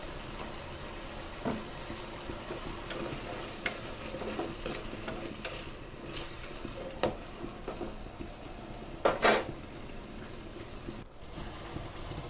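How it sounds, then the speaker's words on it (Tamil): Vegetables sautéing with salt in a pan give a soft, continuous sizzle broken by scraping and clattering strokes of a spatula, with one louder clank near the end, and no one speaking. "இப்போ நல்லா பெரட்டி விடுங்க."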